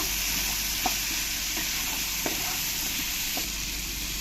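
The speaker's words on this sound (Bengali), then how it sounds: "আলুটা দিয়ে ভালো করে আমি মশলার সঙ্গে একসঙ্গে কষিয়ে নেবো" Potato being sautéed with ground spices, an even sizzle under a constant hiss with a few soft utensil taps as it is stirred, close by and without speech.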